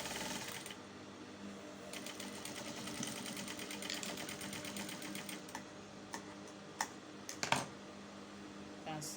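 A sewing machine back-stitches a seam on an A-line cold shoulder shift dress, giving a steady, fairly quiet mechanical whir with rapid stitch clatter and a few sharp clicks near the end, alone without voices.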